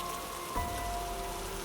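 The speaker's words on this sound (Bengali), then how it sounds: "বাইরে অঝোরে বৃষ্টির শব্দ।" Heavy rain pours steadily outside, a dense, even hiss of drops on surfaces with no voices, holding at a constant moderate level throughout.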